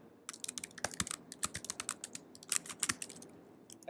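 Go code is typed on a computer keyboard in quick, close, crisp clicking keystrokes with short pauses between bursts, fairly quiet, with no talk.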